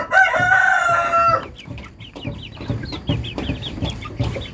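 Wiring kuning chickens with grey-based plumage, one young rooster crowing loudly up close, then hens clucking in short irregular bursts.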